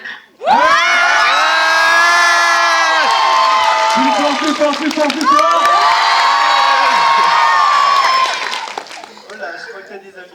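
A nightclub crowd cheers and shouts loudly and continuously at close range, with high voices whooping over a dense roar that holds steady before tapering off near the end; a brief spoken line comes at the start.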